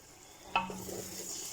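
Masala sauce for a beef mince and potato curry bubbling in oil in a pan, a soft steady sizzle with a brief clink of a utensil against the pan partway through.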